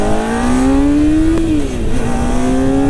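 A motorcycle accelerates hard nearby, its engine note climbing steadily through the revs, dipping at a shift, then pulling up again, loud and alone with no talk.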